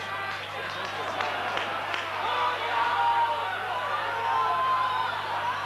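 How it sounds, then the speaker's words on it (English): Rugby league crowd at a York v Halifax match builds in a steady roar with cheering and scattered clapping, a commentator talking over the swelling noise. "Crowd are getting noisier and noisier."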